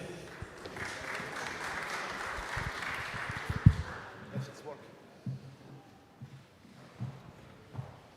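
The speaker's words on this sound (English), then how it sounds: "You can applaud them again." Audience at a business conference on chess strategy claps for a team from PwC France and Poland, a dense steady patter for about four seconds that thins into scattered claps and room murmur.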